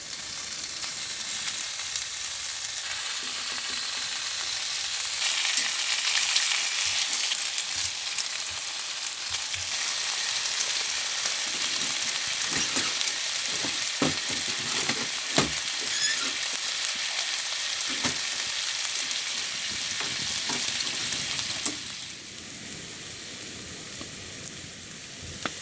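Strips of bacon fry in a pan at a hot-tent camp on an abandoned highway, a steady dense sizzle and crackle running throughout, with sharper pops scattered over it before the sizzle softens near the end.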